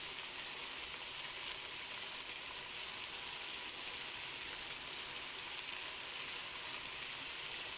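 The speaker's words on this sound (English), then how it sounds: "And then we simply saute the meat again." Minced meat sautéing in a pan for homemade lasagne, a steady, even sizzle with a rain-like hiss that carries on without a break and with no talking.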